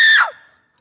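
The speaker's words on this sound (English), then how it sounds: "Let's hear your scream of terror." A single short, shrill scream of terror from a performer backstage at a Macbeth production, piercing and close, sliding down in pitch and cutting off within a fraction of a second.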